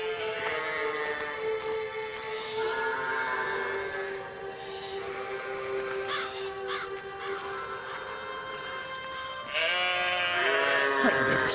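Large sheep in an animated mythological setting bleat repeatedly in long, wavering calls, several voices overlapping and close by, with a louder burst of bleating near the end.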